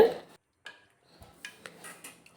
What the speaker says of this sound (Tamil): தண்ணி சேர்த்துட்டு நல்லா கலந்து விடுங்க